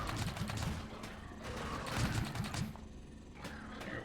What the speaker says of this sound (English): it's making it easy pickings for my machine gun to take them all out